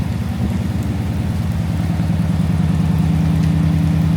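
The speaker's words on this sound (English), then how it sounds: "that's a nice sound. She's a bit smoky, but that's a really healthy engine, you can tell. Very even exhaust beat." A Daimler Majestic Major Hemi V8 limousine engine running with a smoky exhaust, its steady, even exhaust beat throbbing close and loud throughout, rising slightly as it is revved.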